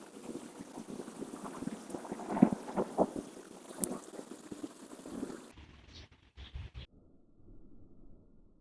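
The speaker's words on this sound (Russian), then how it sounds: "гром гремит сильно, прям бабахает что-то такое" Heavy rumbling thunder rolls through a thunderstorm after a downpour and wind, loud crackling bursts for several seconds before cutting to quieter patter and distant noise.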